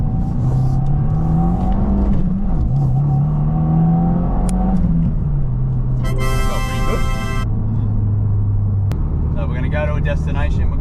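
A 2025 Subaru WRX in sport mode revs and pulls from inside the cabin, its engine drone rising and falling loudly under almost continuous talk, with a burst of rapid ticking partway through.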